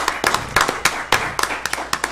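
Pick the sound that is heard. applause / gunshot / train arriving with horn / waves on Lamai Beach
applause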